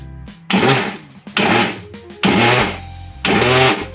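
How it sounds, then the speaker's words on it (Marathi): Mixer grinder grinding roasted sesame seeds on pulse mode, four loud whirring bursts of the motor, each about a second long, separated by brief pauses. "काढून घेऊन मी मिक्सरमधून ग्राइंड करून घेते."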